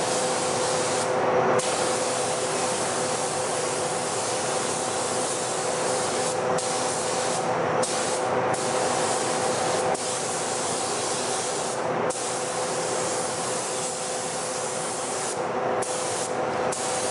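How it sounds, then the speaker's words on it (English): Touch-up spray gun laying paint onto sheet metal, a continuous close hiss held for the whole stretch with only brief dips where the trigger eases, no talking. "Touch-up gun, it just covers a lot faster."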